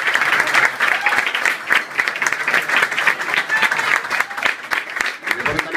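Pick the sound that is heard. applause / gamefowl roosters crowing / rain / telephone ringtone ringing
applause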